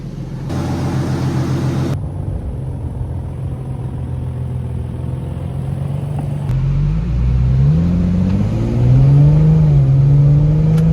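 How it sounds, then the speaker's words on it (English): A rebuilt Infiniti G37XS on its first test drive, the engine humming steadily close by, then rising in pitch in several pulls as the car accelerates. "We're about to take it on the first test drive now."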